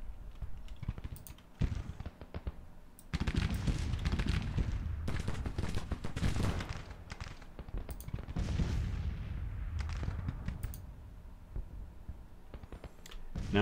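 Civil War battle in Grand Tactician: The Civil War, with a distant, steady crackle of massed musket fire and occasional heavier booms of artillery rolling on throughout.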